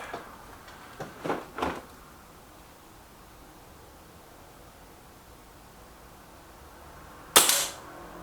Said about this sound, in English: Wow, lovely bullseye from the Puncher Maxi to start us off